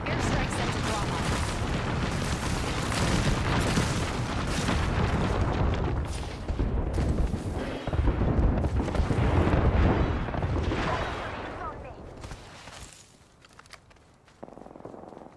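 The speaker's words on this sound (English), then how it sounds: "Airstrike sent to drop off." Heavy, rumbling airstrike explosions in the video game Apex Legends boom continuously for many seconds, close and loud with layered blasts, then thin out toward the end.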